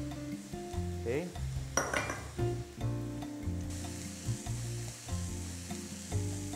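Mushrooms sizzle steadily in a hot frying pan, with a constant crackling hiss and intermittent clinks and scrapes of a utensil stirring against the pan.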